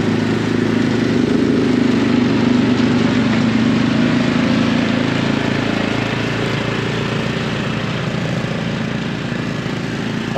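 Quad bike engine running steadily with a mounted soil auger for sampling nitrogen residues in a wheat field, a loud continuous close mechanical drone with an uneven rumble, no talking.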